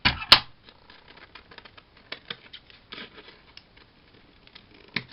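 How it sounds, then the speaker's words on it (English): Sharp snips of scissors open the clip, followed by soft irregular clicks and rustling of material, close by and mostly quiet. "Right, I'm going to trim that bit with scissors."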